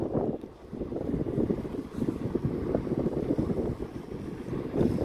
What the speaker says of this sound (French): Wow, il y a du vent quand même